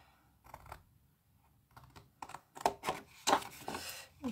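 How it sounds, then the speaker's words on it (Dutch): Scissors cut into folded paper at a craft workshop, trimming small corners and a triangle along a drawn line; a few short, crisp snips come close together, faint and separate, with no talk. "We gaan hem inknippen."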